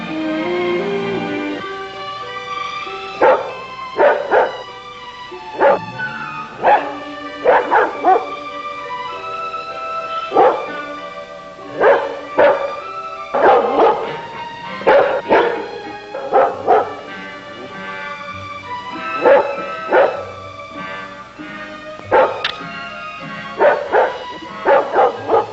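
A dog barks repeatedly at night, the sharp yips and bow-wows coming in irregular clusters over a steady background, some barks whimpering, fairly close and loud, with no talk over them.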